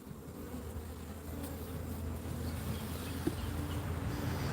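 Honey bees in a recovering colony that has grown calm hum steadily at an open hive, a continuous low buzzing drone that stays close and fairly even, with one small knock partway through and no voices.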